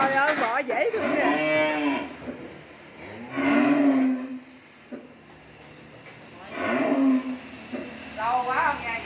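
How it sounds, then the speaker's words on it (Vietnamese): Cattle at a Vietnamese farm mooing in three or four long, drawn-out calls spread across the span, fairly close and loud. "Trời ơi, bò dễ thương nè."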